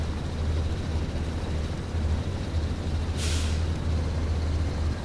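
A Chevy C70 truck engine drones steadily in the SnowRunner video game, with a low rumble held throughout and a brief airy hiss bursting out partway through.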